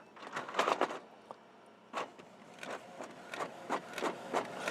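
A Canon Maxify MB5320 inkjet printer runs a copy, giving a series of irregular whirring mechanical bursts and clicks from the carriage and feed over a low running hum, close and moderately loud, with no speech.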